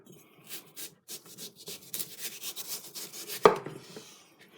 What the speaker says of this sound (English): now I'm just going to go around the outside and cut that off